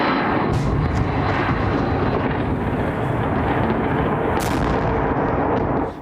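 Explosions from missile strikes on Kyiv at night: a loud, continuous rumbling barrage, with a couple of sharper blasts breaking through, and no voices.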